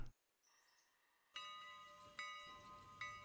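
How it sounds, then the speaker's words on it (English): Steam locomotive bell in the railway simulation game Railroader, ringing three clear metallic strikes about a second apart, each with a long ringing decay, heard close with no talking. "A little bell up front too."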